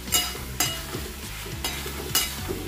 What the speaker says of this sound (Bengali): কাবলি চানা কষানো হচ্ছে।